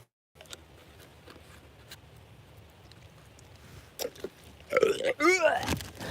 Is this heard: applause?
no